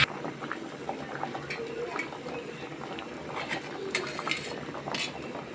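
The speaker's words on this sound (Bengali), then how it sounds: "দশ থেকে 15 মিনিট এভাবে কষাইতে হবে মাছগুলো হওয়ার জন্য।" Hilsa fish simmer and sizzle in a pan, a low bubbling, popping cook sound with scattered sharp crackles, fairly quiet and close, steady throughout.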